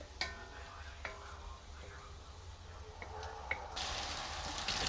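Onions fry in a pan with ginger garlic paste, a soft crackling sizzle broken by spoon taps against the pan, swelling into a louder, fuller hiss near the end, with no voices.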